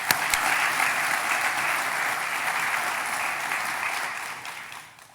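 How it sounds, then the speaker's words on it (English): An audience at the AIA Tampa Bay Honor and Design Awards breaks into a sustained round of applause, dense and even, before it fades out at the end. "Please, everybody, give them a round of applause."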